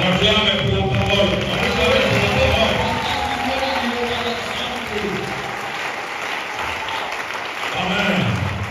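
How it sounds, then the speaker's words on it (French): A church congregation at a Sunday service breaks into sustained, energetic clapping that swells and fades slightly, with scattered voices mixed into the applause. "Acclamez pour la parole."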